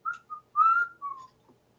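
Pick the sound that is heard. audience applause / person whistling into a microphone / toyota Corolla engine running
person whistling into a microphone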